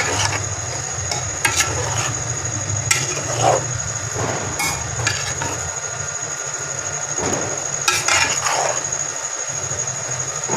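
Steady scraping and stirring of rice with a spatula turned one way in a cooking pot, a continuous close rhythm of scrapes and knocks over low kitchen hum, with no talk.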